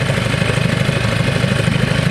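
A boat outboard engine idles steadily and loudly close by while warming up on choke, a constant low throbbing rumble with no voices.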